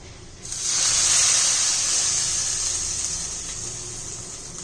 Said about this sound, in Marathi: घेऊया आपण ह्या चटणीवर फोडणी